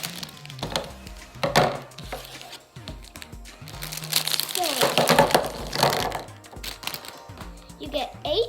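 Scissors snip and crunch through plastic Easter egg packaging, with crinkling wrapper sounds and rustling handling noises up close, several sharp cuts spread across the stretch.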